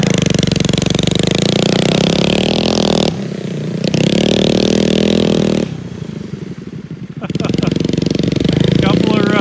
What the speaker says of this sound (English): Brad, you gotta gas it and then pull back.